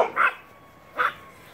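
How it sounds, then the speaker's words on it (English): Two sharp dog barks, the second after a pause, close and fairly loud, with quiet background in between. "Stop barking at people."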